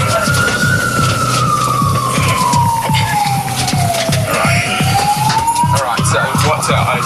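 Ambulance siren on a code 3 emergency run, a loud wailing tone that sweeps slowly down and then back up, heard close over a rhythmic engine and road rumble.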